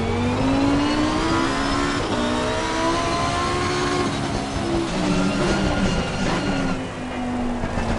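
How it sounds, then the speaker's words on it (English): Supertrofeo race car engine on a rainy track, revving hard with rising and falling pitch sweeps through gear changes and downshifts, loud and continuous throughout with no voices. "Is it just me or does the engine on this car sound so delicious? Especially those downshifts."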